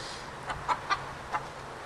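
Domestic chickens kept alongside a rabbit giving four short, spaced clucks close by over a quiet steady background, without any talk.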